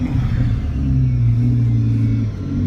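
A Lamborghini engine revs in a loud, continuous roar with a deep low rumble, swelling slightly and holding steady during a police chase, close and alone with no talk.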